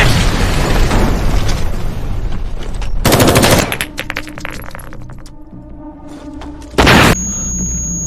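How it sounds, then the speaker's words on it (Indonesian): Loud gunfire and a grenade blast in an action film: sustained rattling shots, then two sharp, heavy explosion bursts over a rumbling backdrop. "Tiba-tiba sebuah granat dilempar ke dalam."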